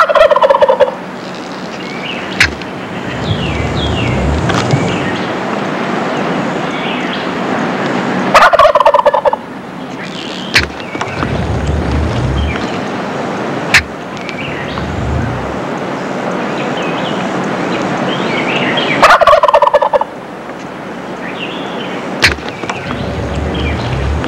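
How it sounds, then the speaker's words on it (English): A wild turkey gobbling outdoors, three loud rattling gobbles spaced several seconds apart, with a steady rushing background noise between them and sharp knocks now and then. "gobbling is to let all the hens within hearing distance know that he's ready to breed"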